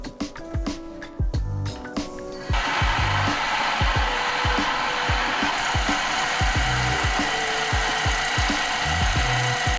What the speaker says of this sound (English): The drill should now start.